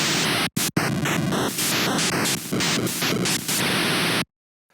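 FamiTracker 8-bit noise channel played from a MIDI keyboard: loud, harsh hiss-like static in a string of sustained notes shifting pitch and texture, with two brief dropouts early on, then a clean cut to silence.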